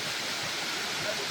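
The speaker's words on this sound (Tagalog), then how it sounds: "We're going back to the first falls." Rushing water from a waterfall gives a steady, broadband hiss throughout, moderately loud and unbroken.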